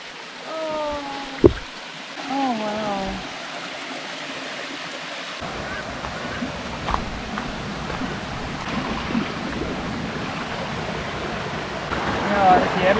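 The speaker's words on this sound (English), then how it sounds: "Mini waterfall." A small waterfall on a hiking trail in a nature reserve, a steady broadband rush of falling water filling the clip at moderate level, with brief exclaimed voices near the start.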